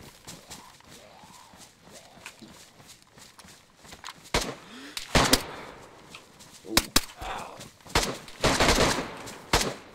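Gunfire in the zombie survival game DayZ: several sharp, loud shots burst out irregularly, some in quick clusters, over quieter footsteps and ambient game noise.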